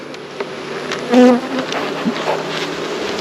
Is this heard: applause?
no